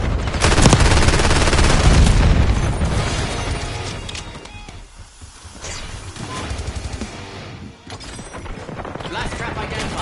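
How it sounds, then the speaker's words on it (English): Black Ops gunfight with a frag grenade thrown and exploding, loud dense rapid gunfire and blasts that ease off midway, then resume at a lower level. "Throwing frag!"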